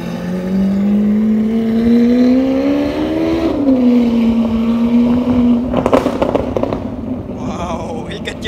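A Lamborghini Aventador with an aftermarket exhaust revs loudly up close, its engine tone rising and falling, then breaks into a flurry of sharp pops and crackles on a city street.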